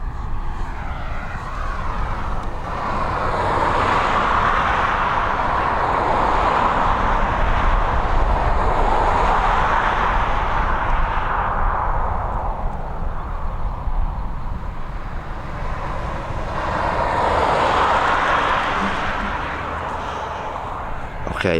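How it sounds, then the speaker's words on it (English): An ATR 72-600 turboprop taxis at Dublin Airport, a broad continuous engine roar that swells and fades twice as it moves, heard from moderate distance outdoors. "The next departure looks like it's going to be an ATR 72-600 series. She's taxiing towards us."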